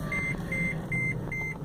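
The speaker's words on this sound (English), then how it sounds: "And it's beeping again." An electronic device in a taxi gives four short, high-pitched beeps at an even pace over a low background hum.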